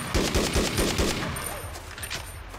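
Gunfire in 25 To Life, a rapid burst of automatic shots in a quick rhythmic string at the start, then softer scattered shots trailing off, loud and close.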